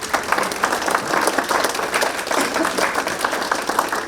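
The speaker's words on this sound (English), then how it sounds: "How about a round of applause?" An audience at a public forum breaks into steady, dense applause, a continuous wash of many hands clapping that holds for the full stretch with no pause.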